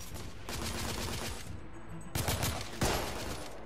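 Sniper gunfire in the video game The Order 1886, a quick cluster of sharp shots over a busy game soundscape, moderately loud.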